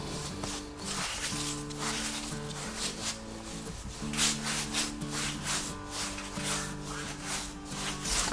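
Dough for Georgian shoti bread being rolled out on a floured surface, a steady close rubbing and scraping that repeats in back-and-forth strokes, with no talk.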